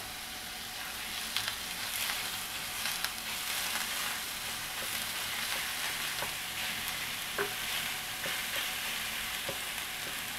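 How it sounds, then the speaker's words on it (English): Ground beef browning in butter in a camp cooking pan gives a steady, soft sizzle and fry hiss with a few small pops throughout, with no talking. "I'm going to brown the ground beef up"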